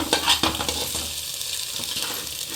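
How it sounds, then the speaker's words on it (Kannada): Eggs fry in a pan for egg fried rice with a steady, close sizzle. A few quick scrapes and clinks of stirring come near the start, then the hiss continues evenly. "ಇದು ಮೊಟ್ಟೆ ಚೆನ್ನಾಗಿ ಫ್ರೈ ಆಗೈತೆ."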